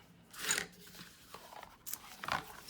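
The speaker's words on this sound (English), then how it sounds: "And I'm just gonna cut this extra piece off" Scissors snip an extra piece off a sheet of paper, two faint, crisp crunching cuts spaced apart against a quiet background.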